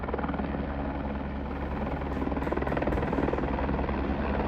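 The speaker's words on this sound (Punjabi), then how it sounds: "ਉੱਥੇ ਹੁਣ ਹੈਲੀਕਾਪਟਰ ਉਤਰ ਰਿਹਾ" A helicopter landing close by at a helipad on the Hemkund Sahib pilgrimage route, its rotor producing a loud, continuous thudding roar that holds steady the whole time, with no talking.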